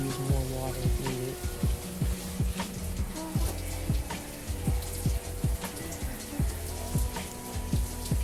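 Water runs and splashes close by as conditioner is rinsed from hair, with uneven drips and patters, a continuous wet stream without any voices.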